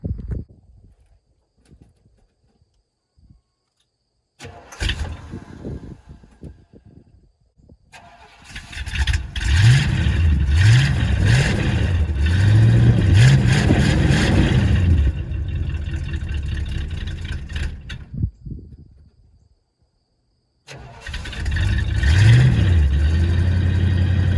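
A Ford Torino engine cranks and catches after a cold start, then revs loudly in repeated rising and falling bursts, cuts out, and is revved again, close and without talk.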